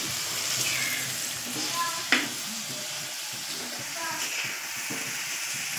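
Tomatoes and slit green chillies frying in oil in a pan, a steady soft sizzle throughout with a brief sharper clatter of stirring near the middle, while a voice talks over it.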